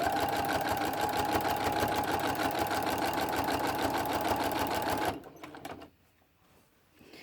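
A sewing machine stitches binding onto a quilt through several layers of fabric. It gives a fast, steady mechanical whir and chatter for about five seconds, then stops, leaving faint handling sounds.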